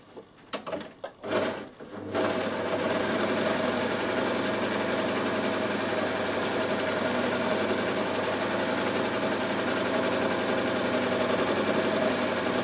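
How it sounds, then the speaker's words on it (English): A Bernette b62 coverstitch machine sews a chain stitch on fabric, starting after a few short bursts and then running in a fast, steady mechanical whir close by for about ten seconds. "I'm sewing on the wrong side, and the machine is going to do the chain stitching on the right side"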